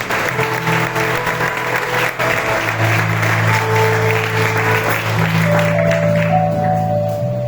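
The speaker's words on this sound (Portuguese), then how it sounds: "Vamos receber o pastor Ismael conforme uma salva de palmas para Jesus" Church congregation gives a sustained round of applause, loud and continuous for several seconds, with held musical chords sounding underneath.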